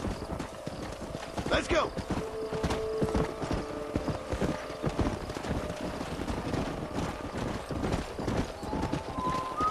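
Horse hooves clip-clop steadily across the ground while horses are being broken in during Red Dead Redemption gameplay. The hoofbeats are close and rhythmic, with a brief whinny early on and a voice speaking over them.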